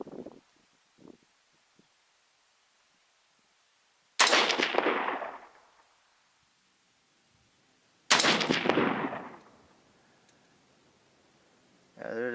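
Two loud .223 rifle shots firing full metal jacket rounds at targets, each a sharp crack with a long echoing decay, about four seconds apart, with a third shot starting at the end; faint handling noise comes before.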